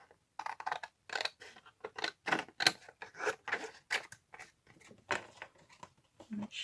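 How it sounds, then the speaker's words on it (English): Scissors snipping a paper circle tag to size, a quick irregular run of close, crisp cuts with short pauses between, alone and fairly quiet. "draw where you need to cut out the circle. And then cut it to size."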